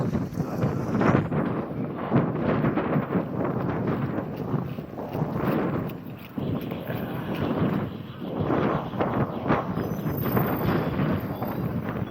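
Strong wind buffets a phone camera microphone outdoors, producing continuous loud rumbling gusts with uneven surges and brief dips.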